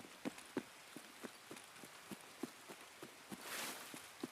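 Rain falls in the Escape from Tarkov shooter game, a steady hiss with sharp repeated footfall-like thuds of running at an even pace and a brief louder swell near the end.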